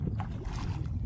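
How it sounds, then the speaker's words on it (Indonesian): Paddles rowing a small fishing boat with a broken engine near Salakan Island, Banggai, at dusk in stormy weather; steady water and wind noise with soft splashing strokes, fairly close, no talk. "kami mendayung dulu ya"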